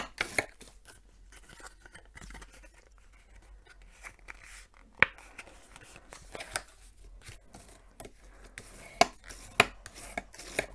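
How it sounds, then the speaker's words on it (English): Card stock is burnished and folded along long score lines to make a small chocolate box, giving soft rubbing, scraping and creasing sounds with a few sharp crisp snaps, close and quiet with no talking. "just folding over on these long score lines"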